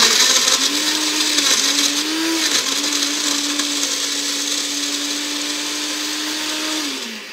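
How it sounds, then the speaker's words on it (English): A countertop blender roars at full power crushing ice for a slushy, its motor whining steadily with a slight dip in pitch early on before winding down at the end; loud and close, no voices. "let's go ahead and turn on the blender. How about crush that ice first?"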